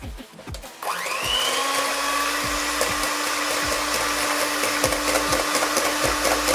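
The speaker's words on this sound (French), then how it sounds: "On va y mettre nos blancs. Et nous allons tout simplement les monter en neige." An electric hand mixer switches on and whips egg whites into stiff peaks, its motor whine rising quickly and then holding a steady buzzing drone with rhythmic ticks of the beaters against the bowl.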